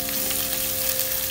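Finely chopped ginger sizzles in hot oil for a moong dal tadka, a steady, close, continuous frying hiss with no talking.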